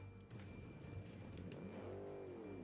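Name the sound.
car engine revving in video game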